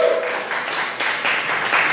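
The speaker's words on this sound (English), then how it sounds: "Give her another round of applause." An audience gives a steady round of clapping at a community culture and conversation event with poetry and open mic talk, a dense even patter of many hands filling the room for about two seconds.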